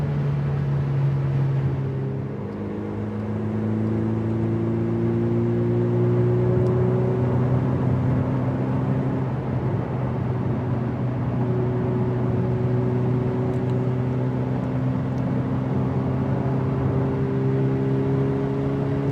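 A Ferrari 488 Pista on the Autobahn, its engine droning loud and steady from inside the car, with revs climbing and settling through gear changes and no talking over it.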